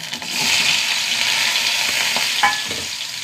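Sliced small onions sizzle steadily in hot coconut oil in a clay pot, a continuous close frying hiss with occasional stirring scrapes and pops, no voices.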